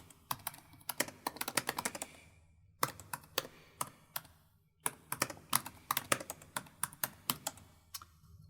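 Close computer keyboard typing, with quick bursts of key clicks in an uneven rhythm, broken by a short pause or two, alone in a quiet room.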